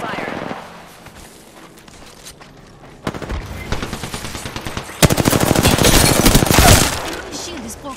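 Video game gunfire, bursts of rapid automatic shots that grow louder and denser midway, with game voice callouts mixed in.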